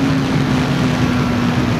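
A 2020 KTM 690 SMC R single-cylinder motorcycle runs at high revs in a steady, droning, unbroken roar with wind rush over it and no gaps.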